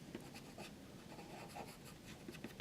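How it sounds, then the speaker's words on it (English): Charcoal pencil scratches across illustration board in quick, close, faint strokes, a dry rhythmic scraping with short bursts and pauses. "what I'm sketching with is charcoal pencil."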